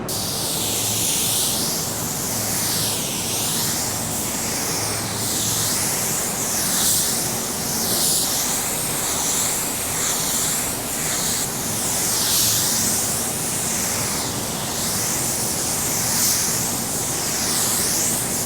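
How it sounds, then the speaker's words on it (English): Steady spray-gun hiss runs continuously as a car bumper is painted in a paint booth, a broad airy rush with slight pulsing as the gun sweeps back and forth; no talking. "The bumper is now in the paint booth and we're ready to spray."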